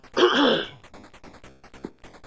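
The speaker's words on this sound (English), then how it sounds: "I do apologize for all that coughing" A single harsh throat clearing bursts out close to the mic, followed by softer breathy rasps and small throat noises, with quiet muffled sounds in the background.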